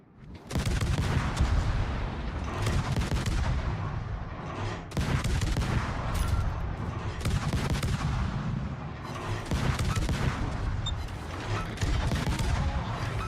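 Warship guns firing in a World of Warships naval battle, a dense continuous barrage of booming salvos and rattling gunfire, loud and sustained throughout.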